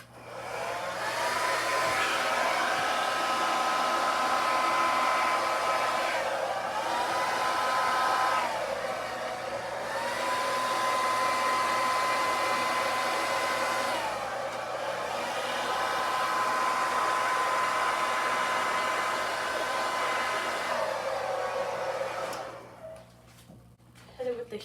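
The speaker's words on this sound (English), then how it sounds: "Hit it with the heat gun again, see if I can get that pink to show up." A heat gun blows steadily across a neon pink and white Dutch acrylic paint pour, a loud continuous whirring hiss that dips briefly a few times before cutting off near the end.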